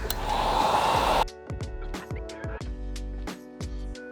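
A heat gun blowing a loud, steady hot-air roar onto tint film on a 2023-2025 Chevrolet Blazer taillight, cutting off after about a second into quieter clicks and handling noises.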